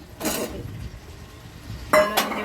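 Cauliflower and potato pieces tipped into a pan of fried spices and oil for a fish curry, two brief clattering bursts of utensil on metal separated by a quiet pause.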